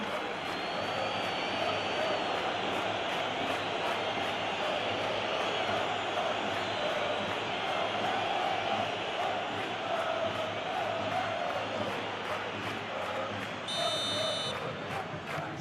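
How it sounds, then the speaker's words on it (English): A stadium crowd chants and roars in a simulated Real Madrid versus Benfica Champions League football match, a dense continuous wall of voices with steady rhythmic pulsing, loud throughout, plus a brief electronic beep near the end. "The crowd are calling for this to be put to bed."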